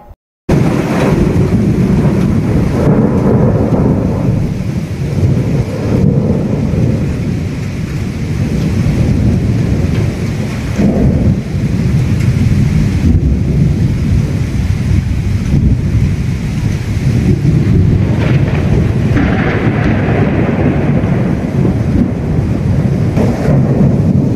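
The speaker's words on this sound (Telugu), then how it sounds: "ఉరుములు మెరుపులతో కూడిన వర్షం" Loud, continuous downpour with deep rolling thunder rumbling almost constantly, swelling and fading in waves over a dense roar of rain.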